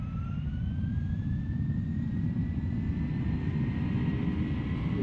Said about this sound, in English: Advancing the throttles.